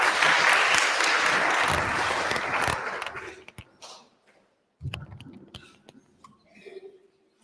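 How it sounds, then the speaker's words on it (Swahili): Audience applause at a school biology contest at a girls' school, a dense steady burst of clapping for about three seconds that fades out, followed by scattered claps, a cough and faint shuffling. "Tumpigie makofi."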